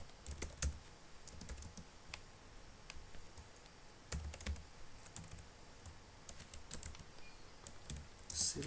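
Fingers typing code on a computer keyboard, a steady run of faint, close key taps with a few louder clusters and pauses, no talking.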